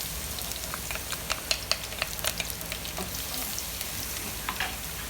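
Onion and minced garlic sauté in a pan for lomi, a continuous close sizzle dotted with sharp popping crackles and light stirring scrapes.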